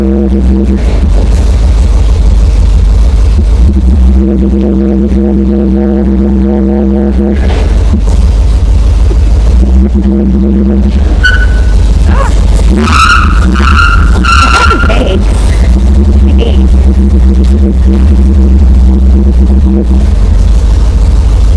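A 1953 Ford F100 4x4 street machine revs hard and its tires skid for a long stretch, the loud engine drone rising and falling through several pulls, with brief screeching and a faint voice mixed in.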